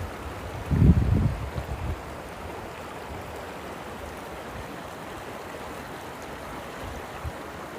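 A woodland river and brook run as a soft, even watery hiss throughout, and a brief low thump or rumble comes early on.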